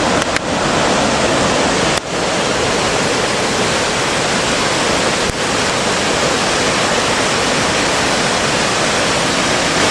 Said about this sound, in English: and this is Aysgarth Falls.